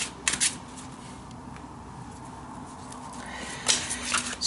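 Tarot cards from an Art Life deck are shuffled and drawn in short riffling bursts, close and crisp, separated by a quiet pause, with no talking.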